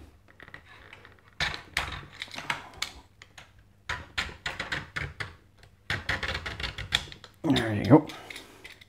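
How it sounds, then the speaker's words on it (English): A blade strips styrofoam-like foam insulation from coax cable pinned against a table, giving close, irregular bursts of crisp crackling and scraping separated by short pauses. "hold the blade down and sort of pin it between the table and pull it towards you"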